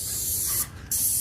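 A paint sprayer hissing steadily as it coats stucco pop-outs around a window, loud and close, with a brief break in the spray before it resumes.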